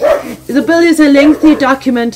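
Dogs barking and yipping indoors in the background while a person keeps talking over them, the barks partly masked by the close speech.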